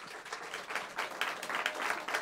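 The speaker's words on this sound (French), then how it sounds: "Vous pouvez l'applaudir franchement." An audience applauds steadily for a singer on a radio show, a dense wash of many hands clapping at moderate volume.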